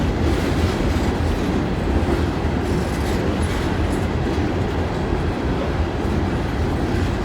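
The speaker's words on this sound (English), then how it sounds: "Third train of the day, and it's another coal train." A heavy coal freight train rumbles steadily past close by, a continuous loud roar of wheels and cars with faint clanking throughout.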